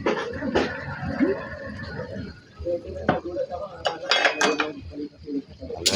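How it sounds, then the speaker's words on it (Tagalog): Bopis with ketchup is stirred in a pan, with a metal utensil scraping and clinking against it in uneven close bursts while someone talks over it. "Haluin lang natin idol."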